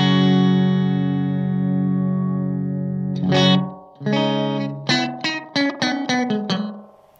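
Electric guitar through a delay pedal set to a very short time with many repeats, giving a metallic, resonant ring like a tube; a sustained chord fades, then quick picked notes follow, each smeared into a ringing tail.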